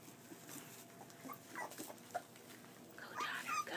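Boxer puppies at play give faint whimpers, yips and small barks in a quiet room, scattered and soft with a few sharper yelps toward the end.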